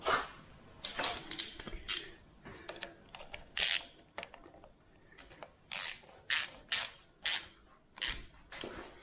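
A socket ratchet tightens thermostat housing bolts on a Mk3 Ford Cortina engine, making close, quiet bursts of rapid clicking in short, separate runs with brief pauses between strokes.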